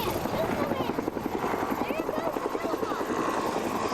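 A rescue helicopter passes over during a heavy snowstorm in Alabama, its rotor chopping in a steady fast pulse that holds loud throughout, with people talking now and then beneath it.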